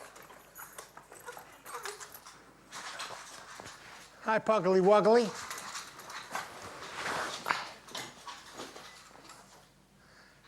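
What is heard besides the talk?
dog whimpering and moving around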